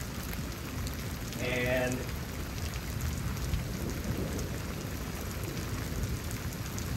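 Rain falls steadily during a thunderstorm in Houston, Texas, a dense continuous hiss of drops with low rumbling underneath, and a brief voice speaks near the start.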